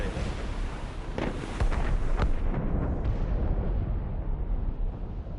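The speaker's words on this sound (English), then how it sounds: "Cannon fire. Deep within the fog." Deep cannon blasts boom through fog in Assassin's Creed Rogue, a few heavy rumbling shots close together and loud, then a long roar that fades away, with no voices.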